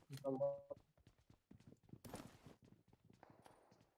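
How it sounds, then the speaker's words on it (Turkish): Footsteps in the PUBG Mobile video game on the Haven city map patter in quick, quiet rhythmic steps. A short tonal burst and a louder noisy thud come in between, and voices talk over the whole stretch. "ayak sesleri var."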